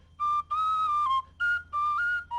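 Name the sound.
tin whistle melody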